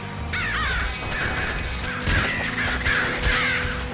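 Crows caw repeatedly in the video game Nuclear Throne over a dense, steady game soundscape, their harsh calls fairly loud and overlapping throughout.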